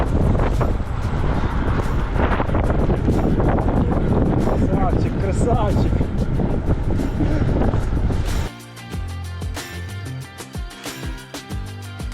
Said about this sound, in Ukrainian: дуже жорсткий вітер